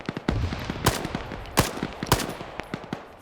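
AK rifle gunfire in a competitive shooter match, scattered sharp shots and short bursts at irregular intervals over a low background rumble, some close and loud, others fainter.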